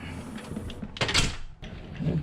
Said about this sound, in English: Cool, now you can open the door